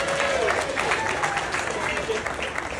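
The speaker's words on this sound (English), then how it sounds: "so round of applause for that" A room full of wedding reception guests clapping, a loud, continuous wash of applause that holds steady from start to finish.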